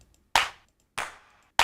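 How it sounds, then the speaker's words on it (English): Natural-sounding clap sample played in music production software, three sharp dry claps spaced evenly about 0.6 seconds apart, each with a short decaying tail, alone with no other sound. "Just like a very natural kind of clap."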